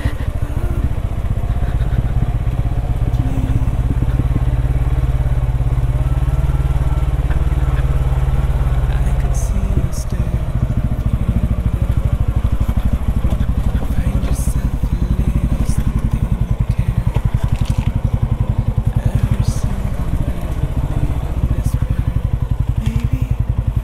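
A TVS Ronin 225cc motorcycle engine drones steadily and loudly while being ridden off-road, its mid-pitched rumble continuous throughout with small shifts in throttle and no talking.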